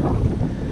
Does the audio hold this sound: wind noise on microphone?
yes